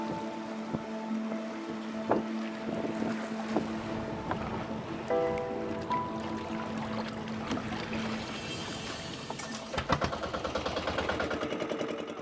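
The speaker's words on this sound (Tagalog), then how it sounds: "Medyo malakas ngayon ang alon ngayong umaga." Strong sea waves slosh and wash around a boat at sea in the Visayan Sea, with steady wind rushing across the microphone and engine hum, a sustained loud roar that grows rougher near the end.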